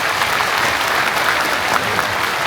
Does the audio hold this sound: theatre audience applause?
yes